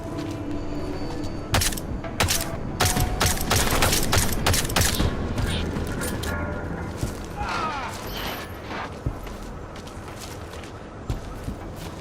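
Rapid bursts of gunfire from a video game played on Linux, dense, loud and continuous, over a busy layer of mechanical clatter and footstep-like effects.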